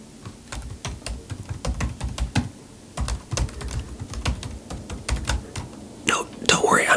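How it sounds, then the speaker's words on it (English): Close keystrokes on a computer keyboard during a library book return, slow single-finger typing in irregular bursts of clicks with soft low handling noise, ending in a brief louder rustle. "There were other keystrokes that I was putting in there, filling out other information"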